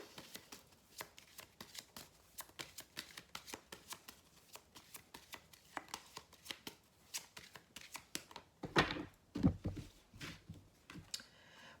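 Advice cards are shuffled by hand in quick repeated riffles and flicks, a close, quiet series of papery snaps with a couple of louder rustles toward the end.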